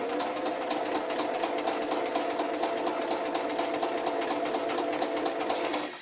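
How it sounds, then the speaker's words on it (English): A sewing machine stitches a rolled hem on light cotton fabric with a hemming foot, running steadily and closely with a fast, even whirr and rapid needle ticks throughout. "So just again doing a couple of stitches to get it started, and then literally rolling the fabric."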